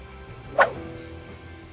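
A dog lets out a single sharp bark at a thief, brief and close against a quiet background.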